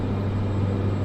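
Cessna Caravan turboprop on a short landing approach in Microsoft Flight Simulator 2024, its engine a steady, loud, close drone with no talk over it.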